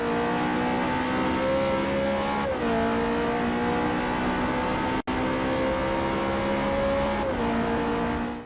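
Car engine in Forza Motorsport 4 gameplay, a loud, continuous racing drone that rises in pitch, dips at two gear changes and has a sharp cut near the middle, with faint tire noise in the background.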